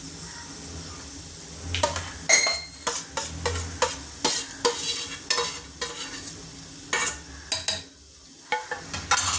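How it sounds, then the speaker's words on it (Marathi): A spoon stirs custard apple pulp into thick rabdi in a pan, giving repeated close scraping and clinking strokes in an irregular rhythm with soft sizzling between, and no voices. "आता आपल्याला हे सर्व मिश्रण एकजीव करून घ्यायचं आहे"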